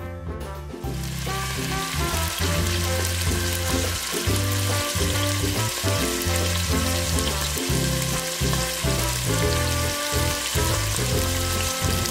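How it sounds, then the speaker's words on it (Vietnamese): Quail eggs, peeled and rolled in tapioca starch, deep fry in hot oil with a steady, dense sizzle and bubbling that stays loud and continuous throughout, with no voices. "Sau đầu mình đem đi chiên vàng."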